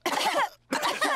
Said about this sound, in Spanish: Los adultos se contagiaron de la tos